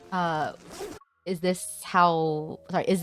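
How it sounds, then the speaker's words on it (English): A video game character zips up her jacket, a quick zipper pull in the middle of the scene with voices talking around it. "She zips up her jacket, sheepishly tucking in her neck a bit"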